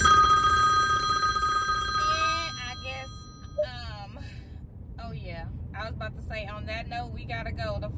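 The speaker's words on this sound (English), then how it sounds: "The phone ringing" A phone rings with a steady electronic ringtone for about two seconds, then stops as people start talking over a low background hum.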